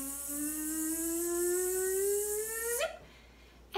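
Voices imitate a bumblebee with a sustained buzzing hum that glides steadily upward in pitch for nearly three seconds, then stops suddenly, followed by a brief quiet.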